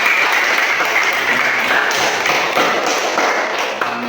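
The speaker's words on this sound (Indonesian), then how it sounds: "tepuk tangan untuk teman kita" Classmates clap for a fellow student in a classroom, a steady dense patter of applause from a small group holding evenly for about four seconds, close and fairly loud with no talk.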